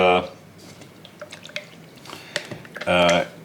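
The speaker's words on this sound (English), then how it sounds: "We'll put some water in there because we want it watered down, fairly watery" Water drips and trickles into a small cup as paint is watered down during model railway layout work, heard as a few close, quiet drips and splashes between bursts of speech.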